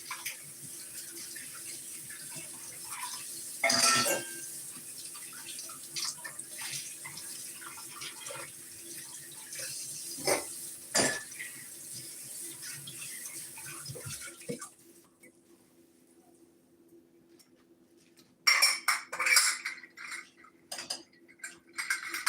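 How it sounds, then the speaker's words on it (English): Percolator parts are rinsed under a running kitchen tap, with water spattering into a sink and metal pieces clinking, a pause in the flow midway, then more splashing and clatter near the end. "I'm gonna rinse these off."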